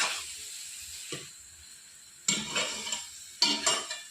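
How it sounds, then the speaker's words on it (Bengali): Soya chunks sautéing in a pan, a soft background hiss broken by a few sharp scraping stirs and clinks of a spatula against metal, close and moderately loud. "ভালো করে সোয়াবিনগুলো এইভাবে আমি অল্প আজে কষিয়ে নেব"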